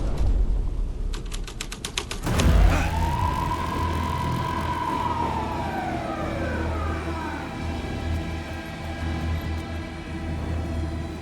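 A police car siren in Alan Wake 2 winds up after a few sharp clicks, then sweeps in a long rising and falling wail over a rumbling engine-like background, fairly loud and continuous.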